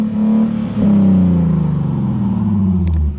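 Nissan 370Z Nismo fitted with an AAM Competition S-Line short tail exhaust, revving loudly and close by in one sustained rise with a brief dip before climbing again, deep raspy tone throughout, no talking.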